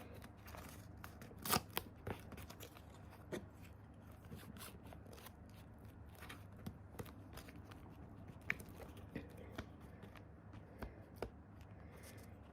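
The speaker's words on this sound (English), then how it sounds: "there's something really, really nice about just tearing pieces of paper that are quite satisfying" Paper being torn by hand for a junk journal, heard as scattered soft rips and crackles with a few sharper snaps across the stretch, close and quiet, with no talking.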